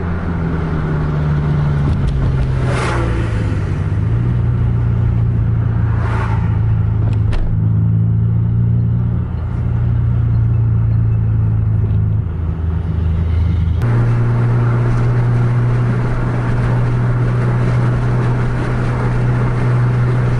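A race vehicle overtaking at a corner, a loud steady engine drone that shifts pitch as it passes and accelerates, with a sharp change midway as the car comes out of the bend.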